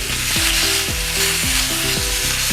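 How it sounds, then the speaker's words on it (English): Pork ribs sizzle and fry loudly as they brown in a small pan, a constant crackling hiss with repeated scraping and stirring strokes about every half second. "make sure that they really do the browning that you need before you turn them around, before you flip them"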